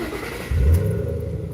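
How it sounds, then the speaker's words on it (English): A car engine roars up from a low idle rumble into a loud, sustained growl at mid-clip, then holds steady and close with no one talking. "Hear that engine roar, baby?"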